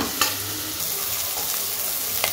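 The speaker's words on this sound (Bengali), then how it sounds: "সোয়াবিনটা একটু আমি ভেজে নেবো" Squeezed soybean chunks fry in oil for fried rice, giving a dense, constant close-up sizzle with only a couple of light spoon scrapes during a brief stir, and no voices.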